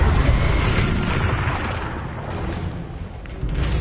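A Confringo blasting spell bursts in Hogwarts Legacy, a loud, rumbling boom sustained throughout, with heavy low-end explosion noise and no clear separate hits.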